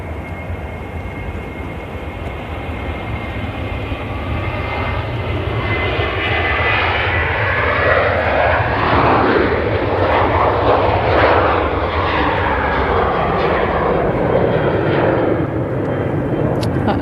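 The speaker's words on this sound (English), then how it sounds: "That was a Tui 737" A TUI Boeing 737 airliner at Manchester Airport roars loudly and steadily, its engine noise building and swelling as it passes close by, with the rumble sustained throughout.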